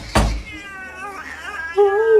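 An upset cat meows loudly indoors, a couple of drawn-out, wavering cries following a sharp knock, with a person speaking near the start.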